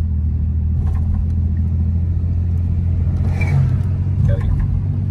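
Old Oldsmobile car driving down the road with its brakes recently worked on, a steady loud low engine and road rumble from inside the cabin, unbroken throughout, with faint voices in the background.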